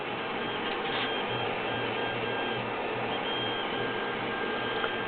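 An Anet E12 3D printer lowers its Z-axis, producing a continuous mechanical whirring hum with a faint pulsing motor tone, steady and close with no talking.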